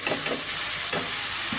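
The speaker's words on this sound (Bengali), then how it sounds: "আর এখানে আমি চুলাতে ভাজিটা বসিয়ে দিচ্ছি" Bitter gourd and potato bhaji sizzling in a pan on a stove, a steady fry hiss with a few soft scrapes of stirring, close and even throughout.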